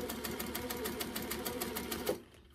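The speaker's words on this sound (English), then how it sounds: "I am going to free motion stitch on the black" A domestic sewing machine runs steadily in a fast, even stitching rhythm as it free-motion quilts over the black fabric of a quilt block, close and continuous before stopping abruptly near the end.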